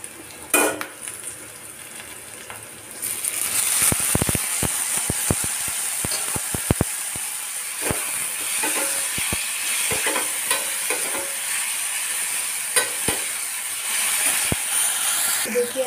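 Tomatoes fry in a pan with crushed onion and asafoetida, hissing loudly as they go in and then sizzling steadily while a spoon stirs and scrapes with repeated sharp clicks against the metal.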